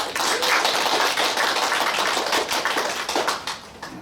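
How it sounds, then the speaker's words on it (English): An audience gives a dense, loud round of applause honoring a traditional Chinese medicine doctor at a standing meditation talk, sustained clapping that thins out toward the end. "Let's give a big round of applause to Dr. Hao."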